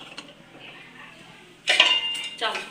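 Metal idli stand plates, stacked from smallest to larger, clatter and clink as they are set into a steaming pot; a quiet stretch gives way to a bright ringing clank of metal on metal and a second shorter rattle.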